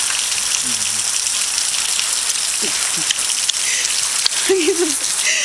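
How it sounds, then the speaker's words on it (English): Steady rain pattering on a surface in a dense, close hiss, with faint voices and brief sounds drifting over it. "It's raining."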